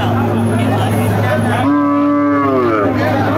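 At a crowded livestock market selling two-toothed meat cattle, a cow lets out a loud, close moo that swells partway through and sustains to the end over steady background market noise.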